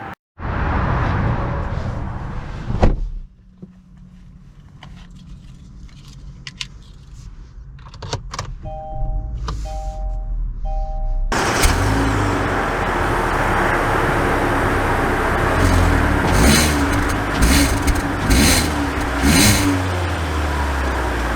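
A 2022 Kia Forte compact sedan is readied and driven off: key and door clicks and a brief whir in a quiet cabin, then steady engine and road noise rising as the car pulls away and keeps rolling.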